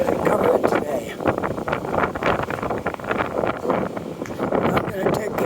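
Strong wind blowing across a city street in a north end neighbourhood, a steady broadband roar with gusty swells that buffets the microphone throughout, with traffic faintly mixed in.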